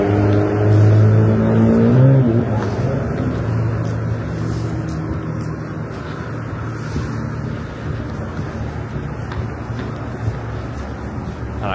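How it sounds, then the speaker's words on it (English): Cars with loud, rumbling exhausts drive past close by, the engine roar swelling as one revs through and then settling into a steady low drone, with wind buffeting the microphone. "They're so cool with their farting cars."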